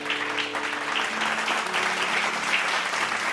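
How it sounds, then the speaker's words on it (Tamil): Applause from a church congregation at a Bible study, steady even clapping, moderately loud with a low hum beneath. "கைத்தட்டுங்க ஒரு தடவை."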